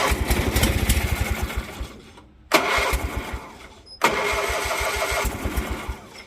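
Kohler KT17 engine on a Bolens 1700H tractor being cranked with choke, loud repeated chugging bursts of starter and engine cut by brief pauses, then sputtering into a rough run.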